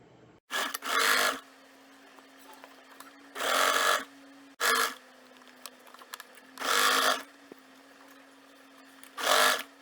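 A sewing machine stitches a men's shirt collar in four loud bursts of about a second each, separated by quieter gaps with a faint steady hum and small handling clicks.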